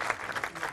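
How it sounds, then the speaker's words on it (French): Brief burst of applause from petanque spectators after a precision shot in a 2016 Marseillaise match, steady rhythmic clapping at moderate distance with no talk. "les connaisseurs peuvent applaudir"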